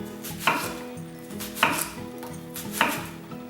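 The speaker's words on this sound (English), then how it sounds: "And then just chop down." A knife chopping an onion on a cutting board, three distinct sharp chops evenly spaced about a second apart, close and moderately loud over a faint background hum.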